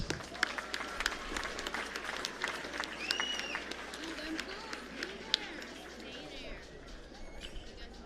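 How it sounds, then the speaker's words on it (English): A crowd at the 2025 Pacific Mini Games closing ceremony applauds the Cook Islands, a faint, distant spread of clapping and crowd noise that holds for several seconds. "another round of applause to the Cook Islands"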